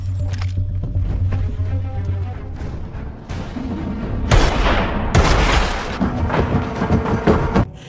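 Gunfire in an action film scene where a retired gangster turned farmer fights off a cartel: a few loud, sharp booming shots burst out over a dramatic music score, with the later blasts heaviest.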